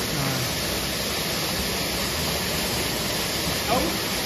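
Chander waterfall in Konkan, swollen and muddy after days of monsoon rain, pours as a steady, dense roar of rushing water close by, constant throughout with only a faint hint of a voice near the end.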